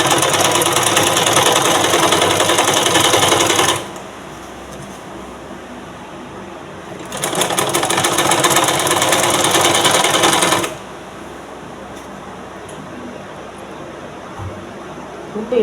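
A sewing machine stitches a blouse hem in two loud, sustained runs of dense mechanical whirring, separated by quieter stretches without talk.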